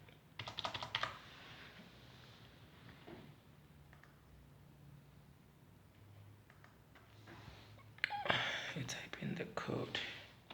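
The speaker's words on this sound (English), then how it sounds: "and then we type in the code." A code is keyed in on a keypad, giving bursts of quick clicking presses near the start and again toward the end, fairly close, with a voice talking quietly underneath.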